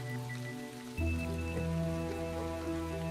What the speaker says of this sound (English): There is heavy rain